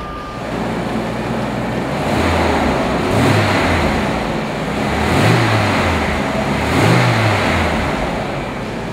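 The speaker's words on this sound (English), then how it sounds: "I'm gonna start the car for you" A 1989 Jaguar XJS Convertible engine idles close by, then revs up three times in rising-and-falling surges before settling back to a rumbling idle.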